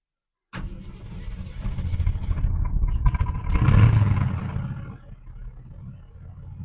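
A 1979 Jeep CJ7 engine cranks and catches, then runs with a rough, loud rumble that swells briefly as it revs before settling back to a steady idle.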